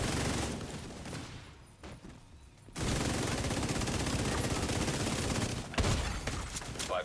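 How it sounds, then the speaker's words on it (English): Dense, loud gunfire in a shooter video game, with steady bursts broken by a brief quieter gap before the shooting resumes at full intensity. "Why are you shooting me?"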